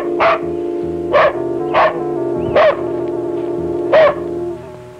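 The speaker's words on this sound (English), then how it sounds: "she was distracted by the incessant barking of her dog" A dog barking incessantly in a small town in northern Washington, five loud, evenly spaced barks over a steady droning background.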